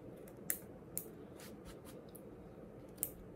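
Dull scissors cut fabric appliqué pieces for an heirloom quilted blanket, a few quiet, sharp snips spaced about half a second to two seconds apart over a low steady background hum.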